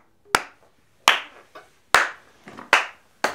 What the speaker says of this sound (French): Allez, on m'applaudit.